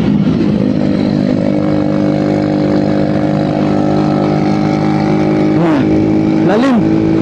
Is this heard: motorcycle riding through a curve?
yes